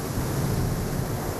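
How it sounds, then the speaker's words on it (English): Pacific Ocean surf pounds a beach just feet from homes, a dense, steady roar of crashing waves mixed with wind rumble. "The relentless pounding of the Pacific Ocean as waves drench beaches and threaten homes that stand just feet away from the crashing surf."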